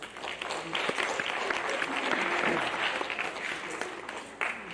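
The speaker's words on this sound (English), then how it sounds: "I'd like to give them all a round of applause" Audience at a school awards ceremony applauding teachers and coaches, a full, steady burst of many hands clapping for several seconds before tapering off near the end.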